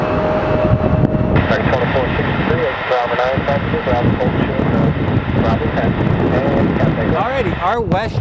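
A WestJet airliner at Phoenix Sky Harbor Airport gives a steady, loud engine roar with wind rumble, passing by while people talk over it throughout.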